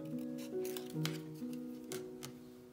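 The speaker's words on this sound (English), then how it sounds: "And we fussy cut it." Scissors snip around stamped butterfly paper images, fussy cutting them out for a junk journal page with a small border left. A few soft, close cuts sound over a low steady hum.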